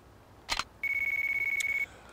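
A phone ringing in Yakuza 3: after a brief electronic chirp, a bright, even, steady ring tone sounds for about a second, pulsing rapidly and clearly, with no talk over it.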